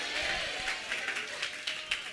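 A church congregation claps along at a morning service, a dense wash of many hands slapping together, steady and fairly loud across the short stretch.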